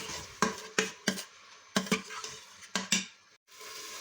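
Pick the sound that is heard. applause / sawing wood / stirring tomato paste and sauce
stirring tomato paste and sauce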